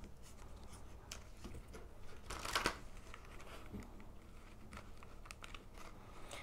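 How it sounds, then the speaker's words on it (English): Tarot cards shuffled by hand in a quiet room: a soft papery riffle that swells briefly near the middle, with faint rustling and handling around it. "A little bit more shuffling"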